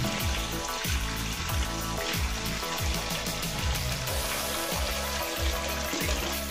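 Steady, loud sizzling and crackling of fish slices frying in hot oil, continuous throughout with no voices.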